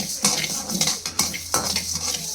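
Mustard seeds dry-roast in a pan for mango pickle while a spoon stirs and scrapes them in repeated close strokes, with a faint crackle and no talking.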